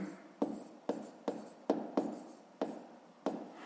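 A pen writes on paper during a fifth-grade maths exercise, about eight short distinct scratchy strokes in an irregular rhythm, close and quiet, with no talking.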